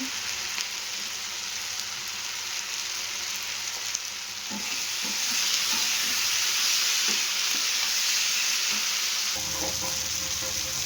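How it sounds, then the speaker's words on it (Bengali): Garlic paste frying in a pan makes a continuous sizzle. It grows louder midway as stirring scrapes and clicks join in, then the sizzle carries on steadily with no talk. "আবার কিছুক্ষণ ভাজবো"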